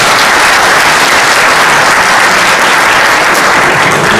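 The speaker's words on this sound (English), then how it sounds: "Can we have a big round of applause for Sanjiv first?" Audience at a conference keynote breaks into sustained, dense applause that stays loud and even from start to finish, with no talk over it.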